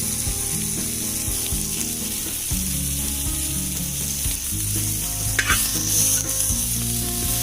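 Curry leaves sizzling in hot oil for a chicken stew, a steady close frying hiss with stirring scrapes in the pan, no voices, under a tonal background hum.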